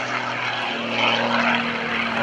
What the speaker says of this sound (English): This airplane, oh, look at that, he rolled it over.